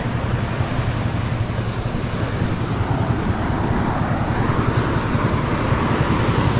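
Sea waves roll onto the shore in a steady, broad wash of surf, mixed with gusting wind buffeting the microphone, continuous and fairly loud with no talking.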